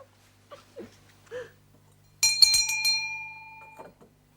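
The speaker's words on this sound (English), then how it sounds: "Will you ring the bell for me?" A hand bell is rung once in a quiet period drawing room, giving a bright, ringing chime that fades over about two seconds, heard after a few soft breaths and murmurs.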